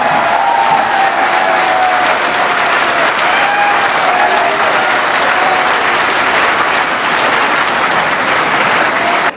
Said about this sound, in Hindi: हाथ उठा के जोरदार तालियां बजा के बताइएगा।